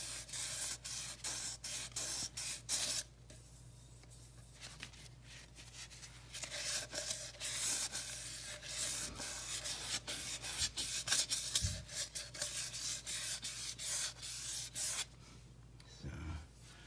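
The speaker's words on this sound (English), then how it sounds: "this is aluminum, so again, we're gonna just clean it up, not take any material away, just kind of rubbing off the high spots." Rubbing and light sanding on an aluminum rear axle housing of a Kubota BX2200 tractor to knock down high spots, giving steady close scratchy strokes with short pauses and a low background hum.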